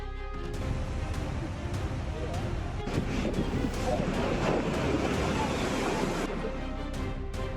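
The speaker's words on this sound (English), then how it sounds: "Heavy rain and rough seas create a white blanket of foam on Cronulla Beach" Rough seas and waves wash onto Cronulla Beach during heavy rain, with a steady, loud roar of surf and strong wind buffeting the microphone. The sound stays broad and continuous throughout.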